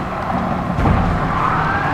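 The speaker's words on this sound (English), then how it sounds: "He just shoved me into the back of that other car" A car slams into the back of another car during an online race in Gran Turismo Sport, driving a BMW Vision Gran Turismo, a sharp impact thud cutting through steady engine roar.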